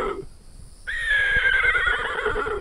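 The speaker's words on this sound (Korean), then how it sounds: "염소가 또 있어." Goats on Hodo Island in Korea give a single loud, drawn-out bleat that wavers and carries on for well over a second, coming in after a short quieter stretch.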